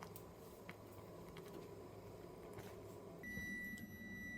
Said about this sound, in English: there was the timer for 5 minutes